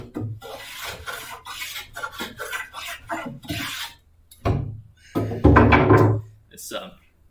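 A hand rasp scrapes shavings off a piece of wood in bursts of rough, rasping strokes, with pauses and a couple of louder thunking passes near the end; a person talks between the strokes.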